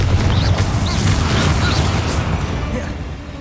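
A Confringo blast spell explodes in the Hogwarts Legacy video game, a heavy booming burst with rumbling low end that decays over a few seconds, loud and close, with scattered pops and a faint voice underneath.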